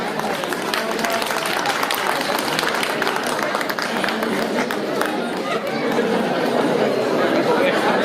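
Sustained applause and crowd chatter for an invited guest stepping forward at a ceremony at an Indian cultural fair, loud and steady throughout, with voices mixed into the clapping.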